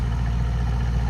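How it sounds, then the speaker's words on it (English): A Mercedes AMG S 63 sedan with quad exhausts idles close up, a deep, steady, throbbing engine rumble that stays loud and even throughout. "quad exhausts. And that's idling. How great does that sound?"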